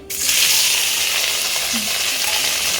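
Turmeric and chili coated pieces hit hot oil in a pan with a sudden loud, dense sizzle that holds steady and close, a few faint clinks beneath.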